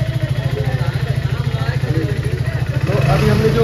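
A Hero Splendor BS6 fuel-injected motorcycle engine idles with a steady, rapid putter close by, growing a little louder toward the end as a voice talks over it.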